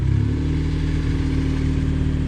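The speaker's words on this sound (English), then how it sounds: "We're idling up" A Jeep Wrangler JK engine idles at raised revs near 1500 RPM, a steady, loud, close mechanical drone with a constant low pitch and slight clatter, no voices over it.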